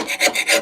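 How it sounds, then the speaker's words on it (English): A putty knife scrapes caked debris off a lawnmower blade in three close, rasping strokes, each a loud gritty rub with short gaps between. "You can take a putty knife and scrape it."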